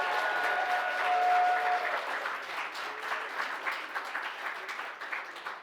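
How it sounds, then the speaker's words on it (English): An audience at a poetry reading applauds the poet Tatiana in a steady, moderately loud patter of many hands that gradually tapers off. "Can we give a round of applause for Tatiana?"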